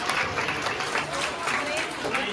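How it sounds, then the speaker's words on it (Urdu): A school annual function audience claps loudly in a dense, sustained burst of applause from a crowd, with a voice speaking over it. "زوردار تالیاں بجائیے اتنی امیزنگ پرفارمنس تھی۔"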